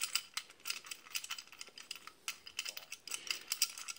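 A ratchet fitted with a 3/4 inch socket turns out an old seat from a Hoffman 17C steam trap, giving quick bursts of metallic clicking with brief pauses, close and quiet.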